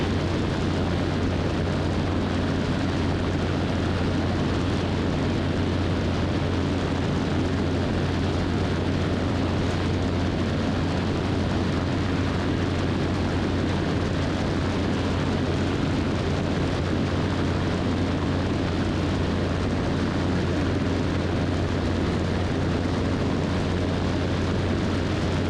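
Steady, loud drone of a Super Petrel light amphibious airplane engine in flight, a continuous broadband roar with a low hum running unbroken throughout, no voices.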